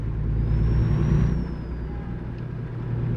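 Truck engine in American Truck Simulator under heavy throttle, a steady loud drone with a faint high whine rising and falling above it, continuous and close with no talk.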